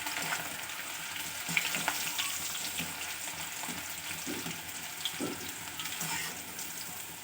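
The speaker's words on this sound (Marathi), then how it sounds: "हे छान तळून घेतले म्हणजे ना आपलं चिवडं छान कडक होत" Steady crackling of thin flattened rice frying in hot oil for chivda, with occasional soft stirring taps, continuous and fairly close.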